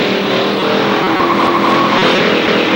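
Race cars roar around the Kil-Kare Speedway track in a 1995 ARCA SuperCars race, a loud, continuous engine drone close by with a slight shift in pitch as they pass.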